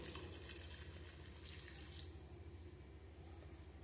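Water poured into a pan of Bengali katla fish curry, a faint continuous splashing stream with a soft low rumble beneath, steady and uninterrupted.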